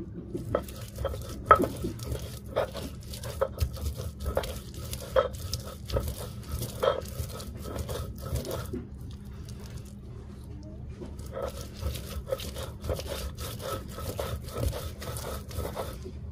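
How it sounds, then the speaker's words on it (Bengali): Spices being ground for a black cumin and small-fish mash on a traditional stone slab (shil pata) in a village kitchen, a steady rhythmic scraping and rubbing of stone on stone, fairly close, with a brief pause midway before resuming. "এর জন্য মশলাটা ভালোভাবে বেটে নেব।"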